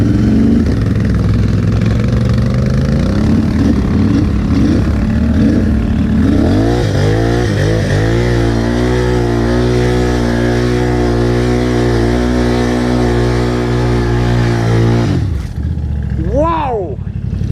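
Can-Am and Polaris off-road vehicles in a mud bog battle: a loud, steady engine roar revs and holds at high throttle for many seconds, then drops off as the rider lets go, with a voice talking near the end.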